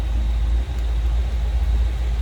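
A 1955 Ford Thunderbird engine idles steadily nearby, a low continuous rumble with no voices.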